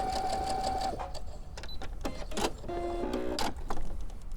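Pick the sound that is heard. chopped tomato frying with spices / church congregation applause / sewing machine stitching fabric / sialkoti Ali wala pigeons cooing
sewing machine stitching fabric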